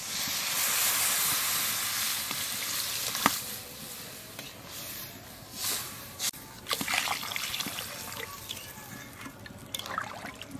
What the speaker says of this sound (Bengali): মাখলা কষানো হয়ে গেছে এইবার জল দিয়ে দেব